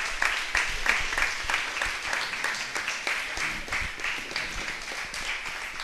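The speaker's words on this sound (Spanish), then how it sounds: "Brinden un aplauso al Señor en esta mañana." A church congregation claps together at a Spanish-language service, a dense, continuous patter of many hands, fairly close and steady for several seconds with faint voices mixed in.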